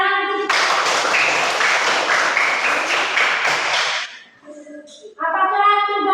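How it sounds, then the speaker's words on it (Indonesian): Classroom applause from students, a burst of brisk, close clapping lasting a few seconds between stretches of a speaking voice. "Tepuk tangan."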